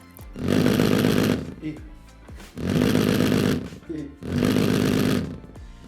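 A Rexus Gladius GX300 gamepad's vibration motor rumbles up close in three loud, even buzzing bursts of about a second each, separated by short quiet gaps.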